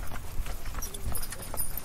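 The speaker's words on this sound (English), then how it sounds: "The horses." Horse hooves clip-clop along a rough road, a brisk irregular rhythm of close hoofbeats.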